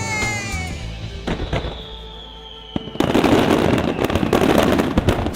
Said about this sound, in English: Fireworks decorate the night sky over Lake Biwa.